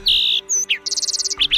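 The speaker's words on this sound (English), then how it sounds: "Today's Talking Birds featured feathered friend, the jaunty-crested, double-scratching, chipmunk-mimicking, green-tailed towhee." A brief, close green-tailed towhee song opens on a sustained whistle, followed by a slurred note and a quick, even trill, all loud and clear with no other sounds.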